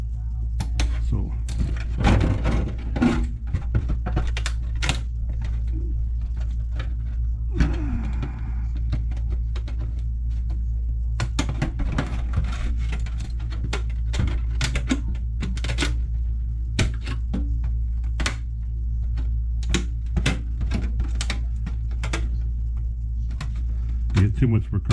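Sharp, irregular scratching and scraping strokes from a blade scribing cut lines into a clear RC car body shell, heard up close over a steady low hum, with bursts of clustered scratches throughout.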